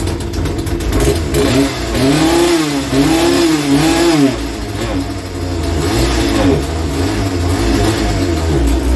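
A McCulloch CS35 chainsaw's small two-stroke engine revs up and down repeatedly close by, rising and falling in pitch, then settles into a steady high whine.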